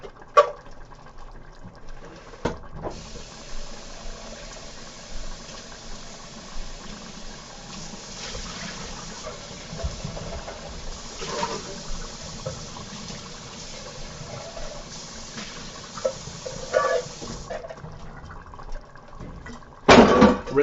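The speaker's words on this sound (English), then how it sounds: "Rinsing out the can." Water runs from a kitchen tap while a can is rinsed out during home cooking, a steady close splashing hiss throughout with a few brief clunks and knocks of the can.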